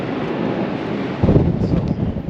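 Strong wind blows across a bridge at Niagara Falls, a continuous roaring rush buffeting the microphone that swells into heavier gusts partway through, with no one talking.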